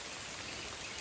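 Rain falls steadily in a rural setting during a bamboo-shoot foraging trip, a continuous soft hiss of drops at moderate level with no talk.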